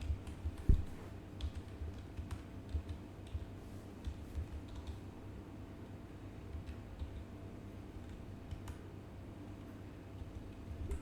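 Typing on a computer keyboard while entering data into an Excel spreadsheet, steady close clicking keystrokes with occasional louder taps, continuing alone throughout without any talk.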